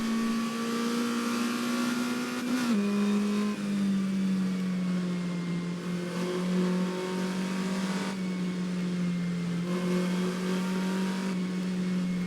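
An Alpine A210 race car engine drones loud and steady while lapping the Charade circuit, its pitch dipping briefly after a shift and then holding a sustained high-revving note throughout.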